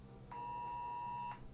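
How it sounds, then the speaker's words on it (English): A phone emergency alert tone for a flash flood warning: one steady, piercing electronic beep lasting about a second, fairly faint against a quiet background. "I just got an alert on my phone,"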